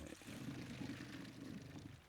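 Water runs steadily from a flushed well pipe line, a faint, continuous low gush and trickle with no break.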